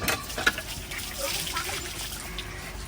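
Water gushes and trickles from a hand pump as it is worked, a soft splashing stream with a faint voice speaking over it.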